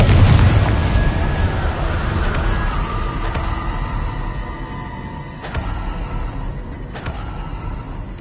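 The Confringo blasting spell goes off in Hogwarts Legacy with a heavy booming explosion that decays into a rumbling wash, followed by a few sharp impacts and crackles, loud and close, with no talking.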